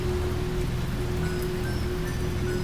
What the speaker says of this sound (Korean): 그날 온 장마는 비가 너무 심하게 많이 와서 마을에 홍수가 날 정도였어